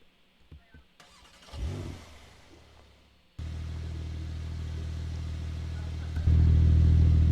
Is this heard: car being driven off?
yes